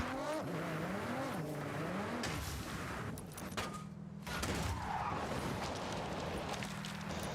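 Forza Horizon 6 car racing with engine roar, then a few sharp metallic impacts and scraping as the car knocks against guardrails, loud and continuous.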